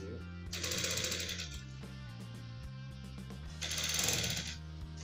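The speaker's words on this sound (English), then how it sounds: "You sew from here." Sewing machine stitching a welt pocket, running in two short bursts of rapid stitching separated by a quieter stretch, close and fairly loud over a steady motor hum.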